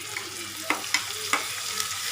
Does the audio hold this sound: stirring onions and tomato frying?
yes